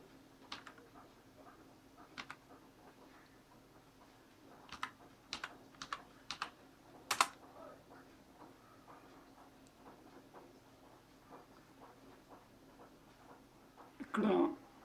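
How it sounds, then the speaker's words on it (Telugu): Sparse keystrokes tap on a computer keyboard while a search phrase is entered, quiet and close, in short bursts with pauses and a brief louder noise at the end. "ఇప్పుడు నేను తెలుగు మూవీస్ అని టైప్ చేస్తున్నాను"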